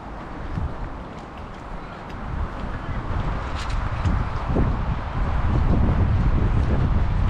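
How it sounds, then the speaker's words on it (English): Strong wind buffets the microphone beside a lake in Penrith, Australia, a loud rough rumble that builds toward the end, with faint rustling and no clear talk. "Oh, that wind's bad."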